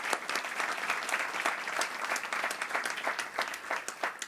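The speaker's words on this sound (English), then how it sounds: "I think that deserves a round of applause" Steady applause from a crowd at a national birthday celebration event, continuous dense clapping lasting a few seconds at moderate distance.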